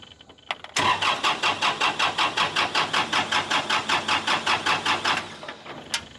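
A tractor used for forestry mulching cranks without starting: a steady run of about twenty rapid, loud starter pulses for several seconds, then it cuts out with no catch, followed by a quiet pause.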